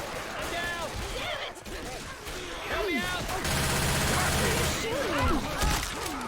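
Rapid video game gunfire in a shooter, bursts of automatic shots mixed with crashes and mechanical clatter, loud and dense throughout, with a voice talking over the action.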